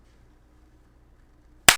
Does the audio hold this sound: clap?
yes